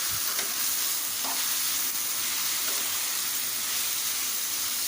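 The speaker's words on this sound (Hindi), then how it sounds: "मिक्स कर देंगे उसको थोड़ा सा बस।" Aloo gobhi, potatoes and cauliflower, is stirred in a pan under a constant loud hiss of frying, with a few soft scraping strokes barely standing out from the steady sizzle.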